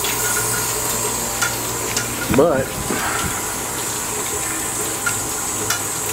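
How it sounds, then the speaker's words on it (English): Water leaks and trickles with a soft, steady hiss and faint drips in a run-down spot, while a voice briefly cuts in partway through. "Got some leaking water."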